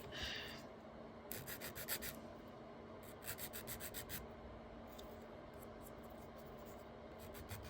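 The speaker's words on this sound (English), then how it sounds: "So I'm just kind of sanding so that it looks a little bit less like a bubble" Steady rasping and rubbing of sanding on a hard resin crystal, continuous with brief bursts of sharper scratchy strokes, close and fairly quiet.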